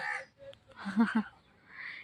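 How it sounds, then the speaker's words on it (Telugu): A crow caws a couple of times amid green trees in a quiet garden setting, short, moderately close calls against a calm background. "కాకి"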